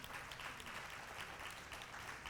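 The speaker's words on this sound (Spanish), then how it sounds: "Alguien debería darle un aplauso al Señor." A church congregation applauds during a sermon, a dense, steady wash of many hands clapping, fairly quiet and distant, continuing evenly without pause.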